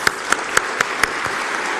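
Applause at a political party's parliamentary group meeting in Turkey's Grand National Assembly, heard as a handful of distinct sharp claps at regular spacing over a steady crowd wash, close and fairly loud.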